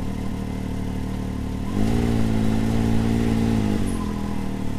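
A 2022 Can-Am X3 DS Turbo side-by-side with a new P Drive primary clutch idles with a steady rumble, then the engine note rises into a sustained rev for about two seconds before settling back down.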